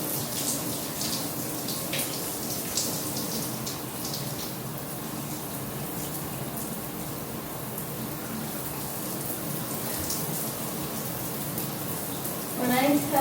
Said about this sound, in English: Some water to activate it.